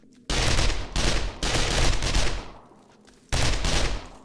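Automatic gunfire from a mod weapon in the video game 7 Days to Die (BorderlandZ mod, Alpha 17.2), loud sustained bursts broken by short pauses, close and dominant with no talk.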